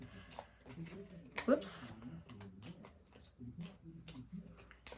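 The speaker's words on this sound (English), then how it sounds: "So I am going to shuffle these really quick." A deck of playing cards being shuffled up close, with riffling bursts and soft card rustles mixed under ongoing conversational speech and a brief exclamation.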